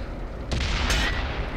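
A tank gun fires in World of Tanks on PS4, with a shot striking and bouncing off angled armor: a sudden loud boom followed by a second sharp crack and a rumbling tail.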